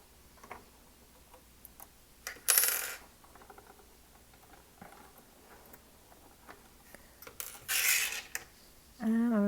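Sharp little metallic clicks and taps sound as a needle is loosened and popped out of a sewing machine, close up and scattered, with a brief rattle near the end.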